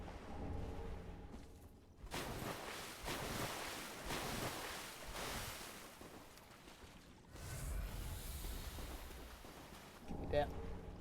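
Deep water in the video game Dark Souls 3 gives a continuous rolling wash of waves, surging and receding in broad swells with a windy hiss, moderately loud and with no speech over it.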